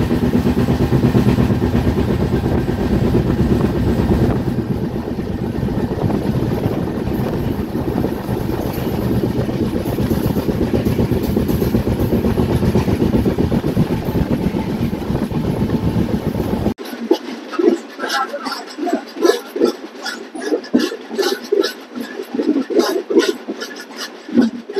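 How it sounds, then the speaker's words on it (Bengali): The Padatik Express runs with a steady, dense rumble and rattle of carriages, then the sound turns thinner and choppier with irregular clanks and rattles as it continues. "আমাদের ট্রেন এই মুহূর্তে ঢুকছে নর্থ বেঙ্গলের জলপাইগুড়ি রোড স্টেশন"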